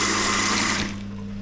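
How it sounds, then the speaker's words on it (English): Water gushes from a bathroom tap in a room at the Argyll Hotel in Glasgow. The close, hissing flow lasts under a second and then drops to a faint trickle. No voices. "Lovely flowing water."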